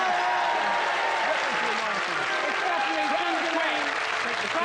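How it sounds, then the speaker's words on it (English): Studio audience applauding during a comedy panel show vote, a continuous crowd clapping at moderate level, with voices and cheering mixed in over it. "applaud now"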